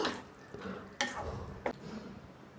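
Potato and onion masala dosa filling stirred in a pan, soft scraping strokes with a couple of sharper spoon knocks against the metal over a quiet background sizzle.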